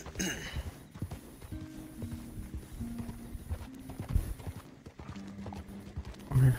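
Horse hooves clip-clop at a steady gallop in Red Dead Redemption 2 online, a continuous rhythmic patter heard alongside game music and effects, with someone talking over parts of it.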